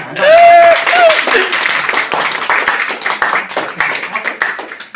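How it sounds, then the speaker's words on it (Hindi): An audience claps in steady scattered applause at a gathering, many hands close and fairly loud, starting after a brief tone and continuing for several seconds. "तालियां।"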